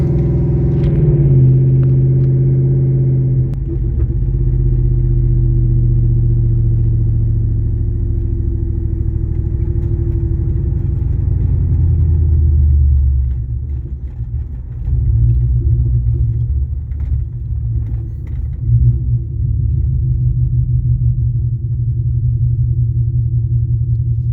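A car engine revs loudly and steadily on a cold track as the car fights for traction, a deep continuous rumble that swells and eases with occasional clatter, with no talking.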